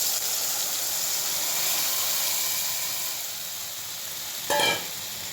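Gravy poured into hot refined oil tempered with cumin seeds in a kadai, giving a steady broadband sizzle and hiss with a brief louder burst near the end; no talking.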